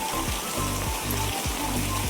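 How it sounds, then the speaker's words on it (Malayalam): Heavy rain pours on a college campus, a dense, loud wash of falling water with faint low rhythmic thumps repeating beneath it. "നല്ല മഴയുണ്ട് ഗൈസ്."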